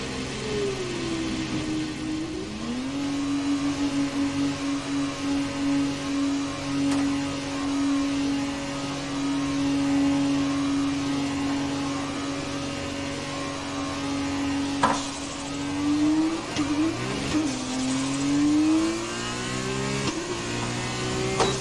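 An F1 car on an out lap at Sakhir in the F1 2020 racing game, its engine droning steadily with a few rising revs and gear changes, heard alone at moderate level throughout.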